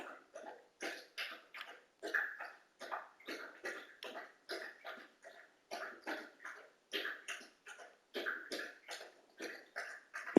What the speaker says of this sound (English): that's my puppy in the background, drinking a whole bunch of water